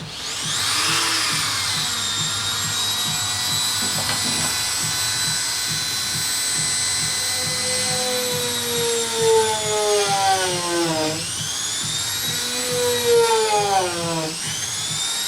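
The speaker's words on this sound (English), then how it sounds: "you don't want to drill all the way through" A power drill whines loudly and continuously into wood for screw holes, its pitch sagging under load and then recovering near the end.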